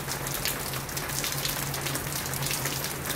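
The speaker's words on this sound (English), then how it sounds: "I'm catching the rain." Rain falls steadily, a dense even patter of drops on surfaces close by, continuous and fairly loud with no talk over it.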